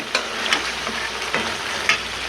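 Pangash fish sautés in a pan with a steady frying hiss, while a utensil stirs it in a few scattered scrapes and taps. No one speaks.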